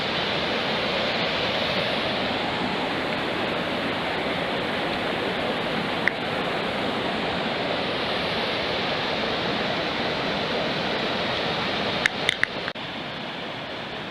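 The Sopit waterfall in Skhidnytsia roars steadily in winter, a dense broadband rush of water that stays constant throughout with no voices.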